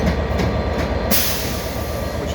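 The Belmond British Pullman train, headed by a Class 67 diesel locomotive, rumbles nearby at London Victoria with a steady low engine drone and rolling rail noise, a bright hiss rising partway through.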